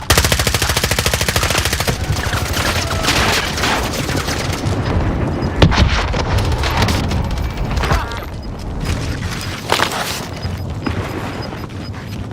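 Dense, continuous automatic gunfire with rapid bursts and heavy booms from a video game battle, loud and sustained for the whole stretch with no talk.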